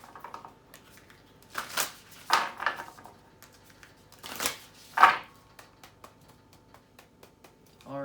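A deck of new oracle cards being riffled and reshuffled by hand, giving a few short papery bursts of flicking and shuffling close up, separated by quiet pauses.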